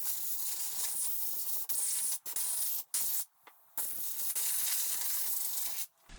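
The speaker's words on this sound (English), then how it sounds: "we'll give them a quick little air blast to dry them off" Compressed air blasts drying freshly washed gun parts before powder coating: a loud, steady hissing spray, cut by several brief pauses as the nozzle stops and restarts.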